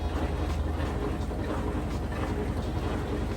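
Steady, dense mechanical whirring and rumbling of an Admiral washing machine spinning at full speed, continuous and fairly loud with a constant low hum.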